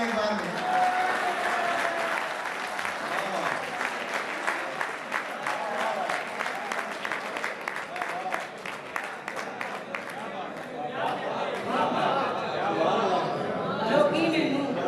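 An audience at a Punjabi poetry reading breaks into sustained, dense clapping that continues at full strength for well over ten seconds before thinning, with some crowd noise mixed in.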